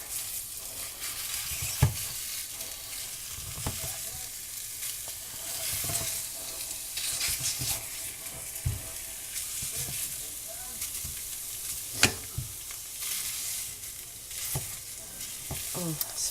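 Sausage breaking up and browning in a pan for sausage gravy, a steady close sizzle broken by repeated spatula scrapes and knocks against the pan, no talking.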